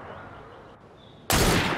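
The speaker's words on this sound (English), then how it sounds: "That sounded like a second gunshot." A single loud, sharp gunshot from Assassin's Creed Syndicate's Last Maharaja story cracks out abruptly after a quiet stretch of low ambience, its echo ringing on.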